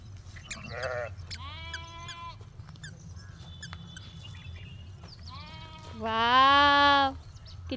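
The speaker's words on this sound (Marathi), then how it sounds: "वाव किती छान छान मेंढ्या." Sheep in a flock moving along a road bleat in several separate calls, ending with one long, loud, close bleat, over a steady low rumble of background noise.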